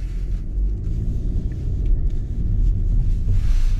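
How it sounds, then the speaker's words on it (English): A 2022 Hyundai Elantra SEL on a test drive gives a steady low road rumble and engine drone from inside the cabin, continuous and fairly loud. "we're going to take us for a test drive back to the dealership here"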